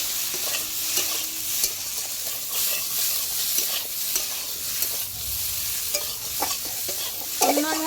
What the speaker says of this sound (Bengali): হালকা কষানো হয়ে গেছে, এবার আমি এতে দিয়ে দেবো গুঁড়ো লঙ্কা